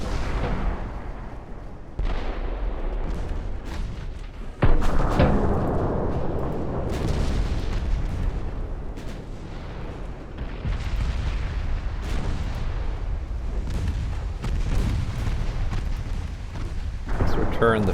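Salvos of 9-inch naval guns in Ultimate Admiral: Dreadnoughts, a run of loud booms and rolling blasts, the heaviest near the five-second mark, over continuous low battle rumble with talk mixed in.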